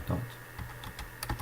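Quick bursts of keystrokes on a computer keyboard while code is entered for a SpaceShooter game, close and clear, with irregular clicks and short pauses between them.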